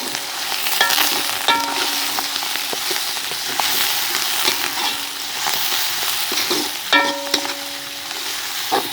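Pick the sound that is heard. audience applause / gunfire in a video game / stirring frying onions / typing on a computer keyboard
stirring frying onions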